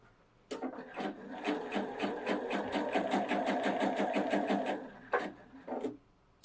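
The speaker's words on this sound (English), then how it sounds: "Now let's sew a little bit." A Pfaff 710/720 sewing machine sews a long straight stitch, with a steady, rapid mechanical chatter running for several seconds, then a short burst after a pause.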